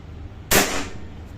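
A single sharp crack from a tuned Pallas Bull air gun, close and loud, followed by a short fading tail.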